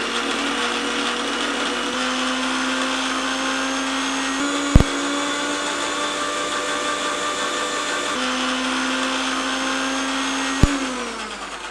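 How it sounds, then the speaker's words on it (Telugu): A mixer grinder motor whirs steadily at high speed grinding coriander chutney, loud and close, with a couple of sharp clicks as it runs alone without talk. "సో మనం మిక్సీ ఆన్ చేసుకుందాం."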